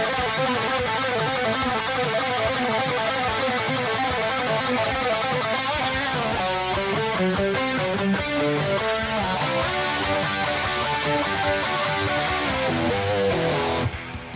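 An electric guitar plays the second solo of a song over the full band track, with fast, dense distorted runs that stay loud and continuous throughout.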